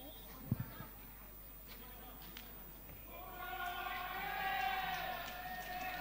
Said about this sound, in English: A very animated crowd.